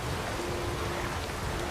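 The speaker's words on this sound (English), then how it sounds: "And just to make matters worse, the seas are getting restless. And it's raining." Steady rain in The Witcher 3 Wild Hunt, falling near a restless sea while stranded, a continuous broadband hiss with a low rumbling undertone and no talk.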